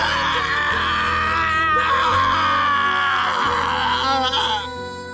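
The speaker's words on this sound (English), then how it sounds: "A scream of pain filled the sad cathedral." A drawn-out anguished scream of pain voiced for the Umineko visual novel, set in a cathedral, loud and sustained for several seconds, wavering in pitch before trailing off, over a low background tone.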